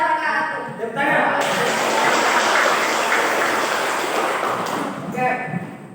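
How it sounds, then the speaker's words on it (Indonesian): Applause from a classroom group after a student presentation, a dense broadband wash of clapping rising after a second, holding steady, then fading near the end with voices around it. "Tepuk tangan."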